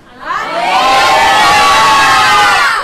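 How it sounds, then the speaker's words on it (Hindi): A church congregation at a Resurrection Sunday service shouts and cheers together in a loud, sustained roar of many voices that swells quickly and holds steady. "जोर से चिल्लाए, नारे लगाए।"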